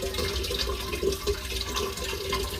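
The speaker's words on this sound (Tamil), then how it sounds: "இது வந்து குடிக்க தண்ணி பைப்பு." Water trickles from a municipal drinking-water pipe in Mumbai, a steady, faint, continuous flow with no voices over it.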